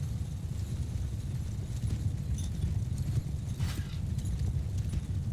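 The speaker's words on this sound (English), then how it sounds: "I will move the horses out of the way." Horses from a medieval battle army in Mount & Blade II: Bannerlord move in a dense, continuous clatter of many hooves, with a low rumble and faint clanks layered over it.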